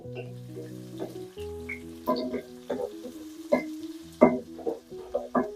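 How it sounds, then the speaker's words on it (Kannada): Onions frying in a pan for a mushroom, broccoli and potato curry, with steady sizzling and sharper crackles and stirring clatters growing busier toward the end; no talk. "ಈರುಳ್ಳಿ, ಇದು ಚೆನ್ನಾಗಿ ಫ್ರೈ ಆಗಲಿ."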